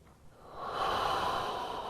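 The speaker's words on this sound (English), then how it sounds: "One more breath here." A person holds a yoga twist pose and takes a slow, close breath that swells into a long, airy exhale and then eases off slightly. No other sound intrudes.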